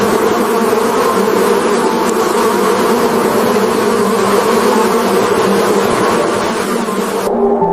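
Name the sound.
swarm of bees buzzing around a hive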